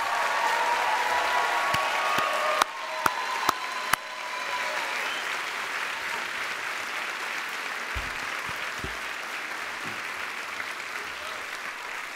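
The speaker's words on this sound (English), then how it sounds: "Please, a round of applause for our students and the chief." Audience in a medical school white coat ceremony hall applauding students, steady dense clapping from a large crowd with a few sharp nearby claps early on, continuing evenly to the end.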